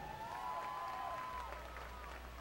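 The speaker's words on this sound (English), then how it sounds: "The fans are cheering for another first down here for these Cowboys." Crowd of football fans cheering and applauding a Porter Cowboys first down, a broad steady roar of noise under a faint tonal whine, with no break across the moment.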